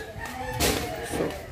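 Backyard chickens clucking and calling briefly at moderate distance, with a couple of short fowl sounds over low background noise.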